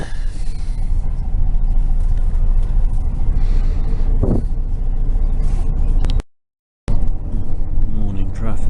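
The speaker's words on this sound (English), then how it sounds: "Morning traffic, 9 AM." Morning city traffic in Saigon, Vietnam: a dense, steady roar of cars, trucks, buses and motorbikes close by, with an air-brake hiss midway, a brief dropout, then the rumble resumes.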